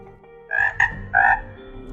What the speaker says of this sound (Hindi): ये आवाज होती है मेंढक की, लेकिन असल में ये आवाज सिर्फ एक मेंढक की नहीं बल्कि हजारों मेंढकों की एक ही आवाज है